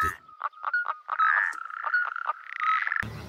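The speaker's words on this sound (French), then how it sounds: "C'est ridicule de porter plainte pour des grenouilles." Frogs croak in a rhythmic chorus from a garden pond at a rural property, loud and close, with pulsing calls repeating steadily before a brief noisy cut at the end.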